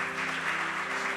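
A church congregation applauds during a sermon, a dense, steady wash of clapping heard alone for a moment.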